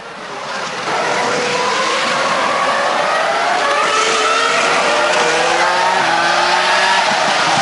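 Onboard a Formula 1 car driven by Rubinho at an Italian Grand Prix, the engine screams loud and close, rising and falling through gear changes in a continuous high-pitched roar.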